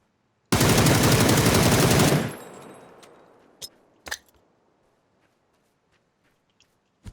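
Gunfire in the battle-royale video game PUBG: a loud sustained automatic burst of about two seconds with a fading tail, followed by a few sharp, quieter single shots.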